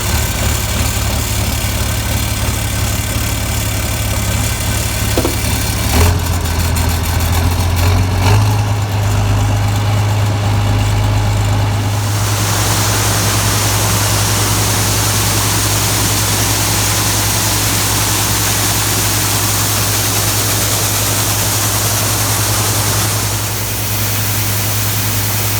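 A tractor engine idles after a cold start, a loud steady low rumble that shifts pitch slightly partway through and then settles into an even drone.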